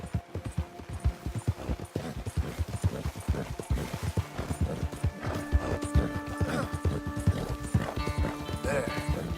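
Horse hooves clip-clop in a steady walking rhythm throughout a Red Dead Redemption 2 scene, moderately close, with a voice speaking over them and a faint whinny near the end.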